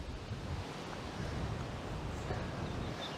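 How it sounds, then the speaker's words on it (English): Strong wind sweeps along a coastal walk in the UK, a steady broadband rushing roar with gentle swells, close and continuous, no voices. "that wind's definitely quite strong along here"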